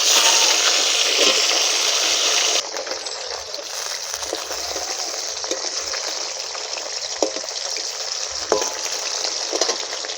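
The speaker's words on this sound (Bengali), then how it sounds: "তা আমি মাছ কটা ভেজে নেব" Fish pieces fry in a pan with a dense, loud hiss that drops to a quieter steady crackle after a couple of seconds, broken by occasional pops and light knocks.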